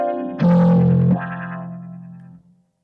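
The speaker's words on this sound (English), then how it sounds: "I'm going to over-exaggerate some of the things on the EQ so you can kind of hear what I'm talking about." Solo piano with exaggerated EQ settings, one heavily colored chord struck loud and boxy, its sustain ringing with a distorted, phasey tone before fading out, no voices.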